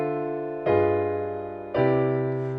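Two sustained piano chords, each struck firmly and left ringing, the second following about a second later in a voice-leading progression; no one talks.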